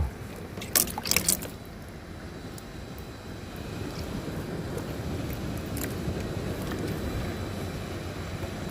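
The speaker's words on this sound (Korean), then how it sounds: "여기도 파도 소리 들리지요?" Waves washing against a rocky shore with tall boulders, a steady broad roar of surf throughout, a few brief louder splashes near the start, heard from close by with no talk.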